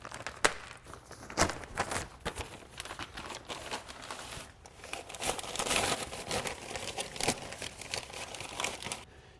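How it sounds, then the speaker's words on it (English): Heavy-duty plastic bag crinkles and crumples continuously up close as it is cut open and wrapped, with sharp rustling bursts and occasional tearing. "this is a much nicer, heavier duty plastic bag, which I'm going to cut open and wrap around there."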